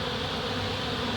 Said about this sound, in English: You can see how crazy all these bees are acting.